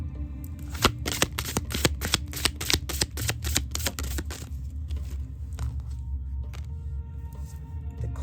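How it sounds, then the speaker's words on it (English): Tarot cards being shuffled up close: a quick run of crisp riffling flicks, then slower scattered card sounds over a low background rumble. "What do you want to say about Diddy with these cards?"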